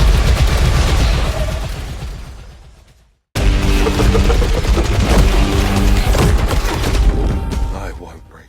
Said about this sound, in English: the sound design of the assault rifle